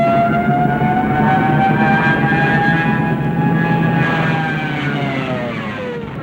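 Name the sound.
dive bomber siren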